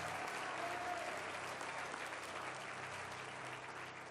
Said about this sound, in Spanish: Si le va a aplaudir a Dios, dele con fuerza.